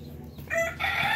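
A rooster crows once, close and fairly loud, its call rising in two strained bursts over a low background hum on a backyard poultry setup.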